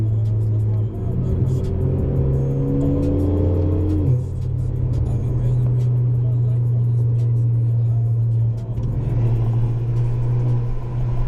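A loud, raspy straight-piped Honda Accord 2.0T Sport exhaust drones close by at night, rising in pitch as it revs and accelerates, with voices talking over it.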